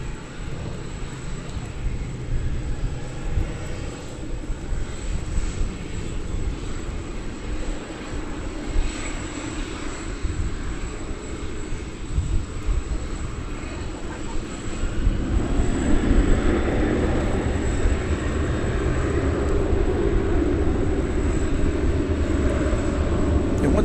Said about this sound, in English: a 737-800 is going to McAllen, Texas, in the southern part of the state